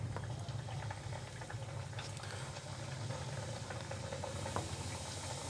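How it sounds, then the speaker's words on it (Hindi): Triangular moong dal chips fry in hot oil at medium-high heat, giving a steady close sizzle and bubbling hiss that runs without a break. "अब ये हमारा तेल बिल्कुल गर्म हो गया है। अब इसमें मैं एक एक करके इसे डाल दूँगी ट्रायंगल को।"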